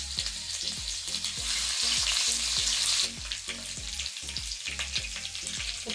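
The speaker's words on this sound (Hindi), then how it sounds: "ऑयल मैंने कढ़ाई में डाल दिया है तड़का लगाने के लिए" Whole red chilies, crushed garlic and ginger sizzle in hot oil in a wok for a saag tempering, a loud, steady frying crackle with stirring scrapes throughout and no voices.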